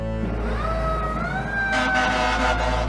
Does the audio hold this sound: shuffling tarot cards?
no